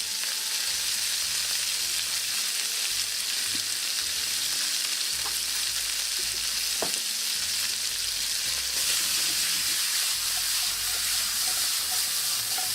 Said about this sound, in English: We're gonna saute them till caramelize a little bit